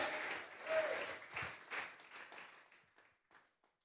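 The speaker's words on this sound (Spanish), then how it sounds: "Vamos a regalarle ofrenda de palmas al Dios de la gloria." Congregation applauding during a Sunday church service, a burst of clapping that swells near the start and then fades out over a few seconds.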